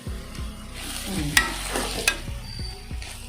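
Diced potato, ginger, curry leaves and a ground paste sauté in a hot pan for a sundal cutlet, with steady frying crackle and repeated spatula stirs and scrapes close by; no one talks.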